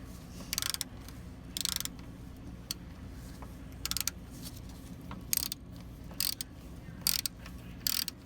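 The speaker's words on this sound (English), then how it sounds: "Tighten that up, which is a 15 millimeter bolt." Ratchet wrench tightening a 15 millimeter bolt on the starter of a Chevy Impala, short bursts of quick clicking repeated about eight times at irregular intervals, close up over a low steady background hum.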